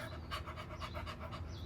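A person performing the "dog's breath" breathing exercise, a rapid, rhythmic series of close, breathy pants repeating evenly throughout, imitating a dog panting, with no talk.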